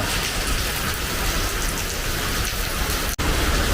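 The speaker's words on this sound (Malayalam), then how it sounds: "മഴ" Heavy rain pours steadily in a dense, loud hiss, continuous throughout with a brief dropout near the end.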